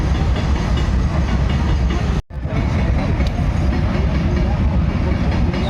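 A train rolls past a level crossing gate at close range, a loud continuous rumble with rhythmic wheel clatter that briefly cuts out partway through.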